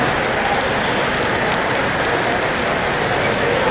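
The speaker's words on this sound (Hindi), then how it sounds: "मूसलाधार बारिश" Torrential rain pours down at an outdoor evening show in Bangalore, a dense, steady hiss of heavy rainfall that stays constant and loud from start to finish.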